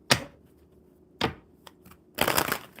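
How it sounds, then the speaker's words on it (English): Tarot cards are shuffled close to the microphone in three short riffling bursts, the last one longest, with quiet gaps between them. "Oops, that was a horrible shuffle."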